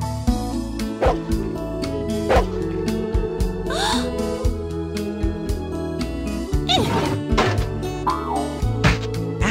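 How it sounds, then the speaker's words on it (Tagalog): A small dog named Nana gives a series of short, yappy barks and whimpers close by, spaced irregularly over a steady musical background. "May nagsisilbing tagapangalaga sa magkakapatid at ito ang maliit at nakakatuwang asong si Nana"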